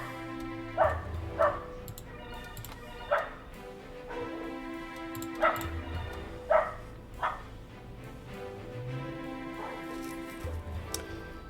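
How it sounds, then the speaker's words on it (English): A dog barks in several short yipping bursts, spaced irregularly over a steady background of game music, moderately close and fairly clear. "Why is my dog barking?"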